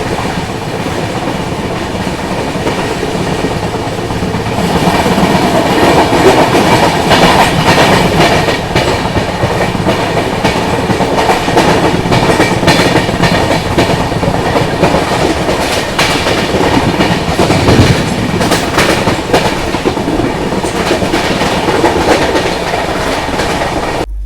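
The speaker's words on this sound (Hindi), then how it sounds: "थाने रेलवे स्टेशन से अपनी ट्रेन निकल चुकी है" A passenger train, the Mandovi Express, rolls steadily out of Thane railway station with rhythmic clickety-clack from the wheels and a constant rumbling hum, loud and close.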